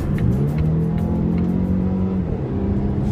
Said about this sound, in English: if you put the pedal to the metal, the car quite makes some noise